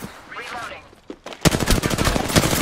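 Automatic gunfire in a video game bursts in after a moment of quieter sound, a rapid, loud stream of shots continuing to the end.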